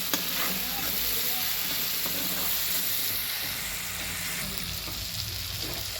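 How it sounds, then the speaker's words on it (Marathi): Vegetables roast in a pan with salt and turmeric, giving a loud, continuous close sizzle with a faint scrape of stirring underneath and no one speaking. "एक चमचा हळद मिक्स करून सगळं भाजून घ्यायचं आहे"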